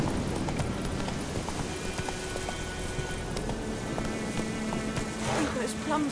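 Roach the horse's hooves clip-clop in a steady trotting rhythm in The Witcher 3, mixed with game ambience and a voice speaking over them.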